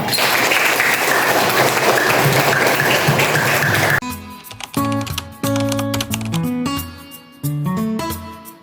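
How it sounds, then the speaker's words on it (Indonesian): A school class claps together in a dense burst of applause that stops abruptly halfway, followed by plucked melodic music with sharp tonal notes. "Tepuk tangan untuk kita semua."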